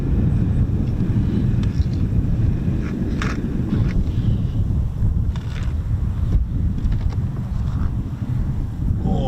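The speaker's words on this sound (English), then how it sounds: "when the wind starts blowing like that" Strong wind roars steadily across an RAF airfield where F-35B jets operate, a loud continuous rumble buffeting the microphone throughout, with no voices.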